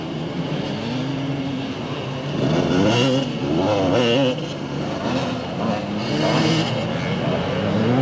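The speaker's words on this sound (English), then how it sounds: "wants to hear that thing revving, and it certainly is doing that at the moment" Motocross motorcycle engines at a 1990 Bathurst dirt race, revving hard and rising and falling in pitch, with a commentator talking over the loud, continuous roar.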